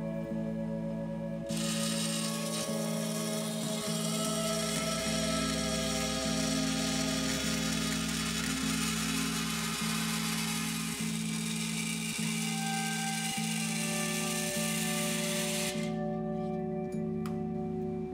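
Power tool cutting excess sheet metal for a dust collector build: a steady, loud, high whining grind with a humming electric motor underneath, running continuously before easing off near the end.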